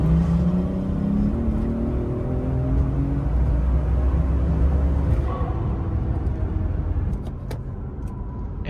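BMW B58 turbocharged engine pulls hard under acceleration, a loud continuous drone with rising harmonics that steadies, then eases and drops away near the end.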